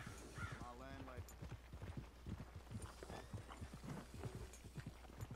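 Horse hooves clip-clop in a quick, steady rhythm in Red Dead Redemption 2, with a brief whinny near the start and speech mixed in, all at low level.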